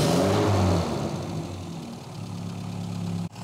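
A tuned A-Series engine in a Mini rat rod runs close and loud, a steady mechanical drone with a brief dip near the end.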